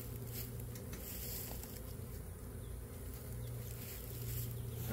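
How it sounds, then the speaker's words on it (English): A honeybee swarm fans inside a box, making a continuous buzzing hum. The hum is moderately close and steady, and no one speaks over it. "What is referred to as nasenoving or fanning going on in the box that I'm putting them in"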